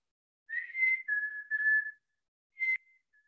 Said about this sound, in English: But our mountain chickadee, they also stay here year round, and they make beautiful vocalizations.